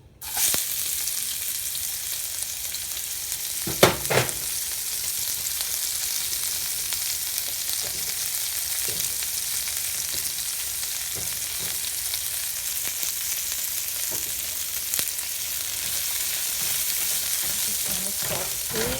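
Onions and garlic frying in hot oil for Singapore-style stir-fried bee hoon, a loud, dense sizzle lasting throughout, with a few sharp clatters of stirring near the start and occasional scrapes.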